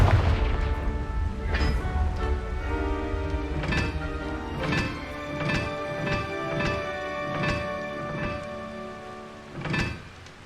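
Repeated Confringo blasting-spell explosions in Hogwarts Legacy, a string of sharp percussive bursts over a sustained tonal music bed, loud and close, with no talk.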